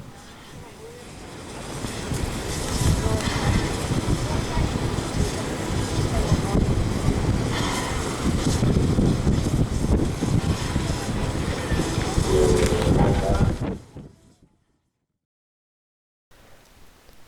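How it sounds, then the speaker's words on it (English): Locomotive B72 rumbles loudly and steadily as it leaves a rail yard during a workshops open day, a dense mechanical roar that builds and holds before cutting off into near silence. "B72 has detached from the carriages and it is now leaving"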